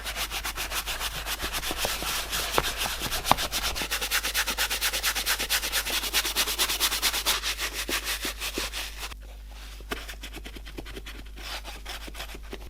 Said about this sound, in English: Give this a nice scrub.